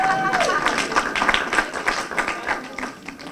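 An audience claps and cheers in a hall during a talk, a burst of scattered applause that thins out toward the end.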